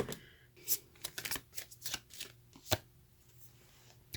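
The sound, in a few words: shuffling tarot cards before pulling one more card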